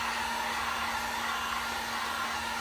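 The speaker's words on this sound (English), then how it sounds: "Good heat gun, but it doesn't blow very fast" A heat gun blows steadily while warming a sheet of Worbla thermoplastic, a constant close broadband whoosh with a faint steady motor hum underneath, unbroken throughout and with no talk.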